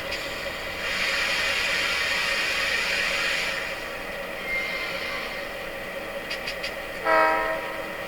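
Model train fitted with a Blunami sound decoder gives a sustained hiss and rumble as its brakes are set, then a brief whistle-like tone near the end, fairly loud and with no speech.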